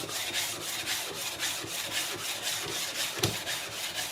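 A 6000 grit King whetstone rubs up and down on a diamond lapping plate under light pressure, a steady rhythmic gritty scraping with regular strokes about three per second, close and alone.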